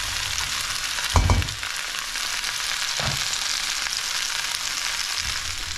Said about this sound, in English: And now I'm going to stir this lot about and get it nice and soft